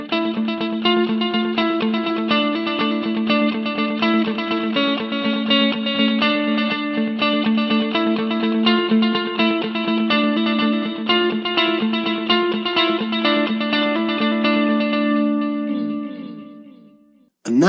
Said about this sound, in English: This is two different delays cascading into each other